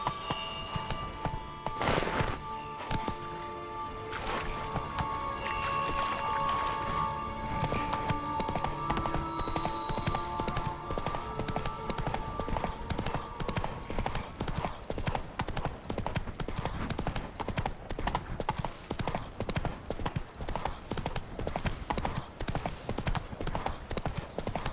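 Horse hooves gallop in The Witcher 3 game: a steady, rapid clip-clop rhythm that builds to a continuous, loud run. Faint game ambience sits underneath, with no talk.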